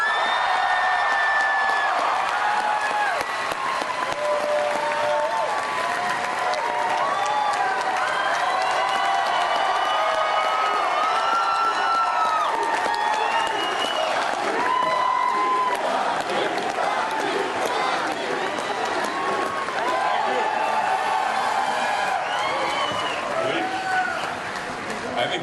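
Comic-Con crowd greeting Sylvester Stallone with sustained loud applause, cheering and whoops, a dense continuous roar of a large audience lasting throughout with occasional shouts rising above it.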